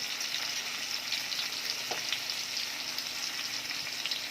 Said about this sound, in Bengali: দিয়ে ভালোভাবে কষিয়ে নেব।